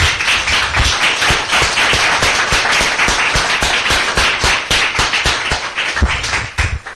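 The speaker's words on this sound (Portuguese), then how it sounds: "Vamos abrir uma salva de palmas para o nosso Deus." A church congregation claps together in a steady, rhythmic beat of sharp hand claps, loud and close, sustained for several seconds before tapering at the end.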